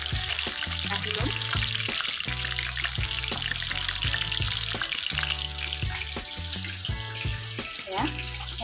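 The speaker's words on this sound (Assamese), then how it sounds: "হাই ফ্লেমত ভাজিলে পটককৈ ৰঙা হৈ আহিব আৰু ভিতৰটো ভালদৰে নিসিজিব" Chicken pieces for chilli chicken fry in hot oil over a high flame, giving a steady, dense sizzle close by, broken by frequent clinks and scrapes of a utensil against the pan.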